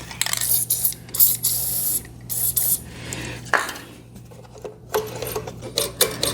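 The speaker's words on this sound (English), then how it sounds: "Got some Teflon dry lube here too. Let's try some of this." Short hissing bursts of Teflon dry lube sprayed onto a part of a Honda HRR2169VYA push mower, several quick spurts with brief pauses, close to the microphone, alongside light handling and rubbing noises.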